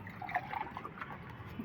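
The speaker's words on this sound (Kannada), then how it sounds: "ಇವಾಗ ನೋಡಿ 1 ಕಪ್ ನೀರು ಹಾಕ್ತಾಯಿದ್ದೀನಿ" Water poured from a one-cup measure into washed moong dal for payasam, a soft, close trickle and splash lasting under two seconds with no talk.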